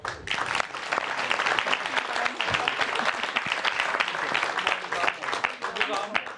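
Theatre audience applauding at a Corsican folk theatre show, a dense, loud, continuous wash of clapping sustained throughout with some voices mixed in.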